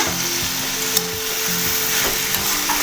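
Beans and potatoes with turmeric being stirred in a frying pan, a steady loud sizzle with rhythmic scraping and knocking of the spoon against the pan, close by.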